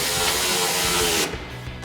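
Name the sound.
ratchet with 17 mm socket tightening a bolt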